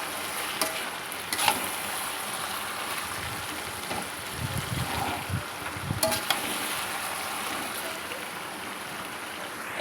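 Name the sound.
onions frying into birista for biryani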